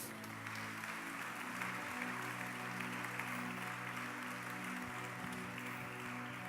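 Church congregation claps together after the pastor's call, a steady wash of applause heard over sustained organ or keyboard chords that continue throughout.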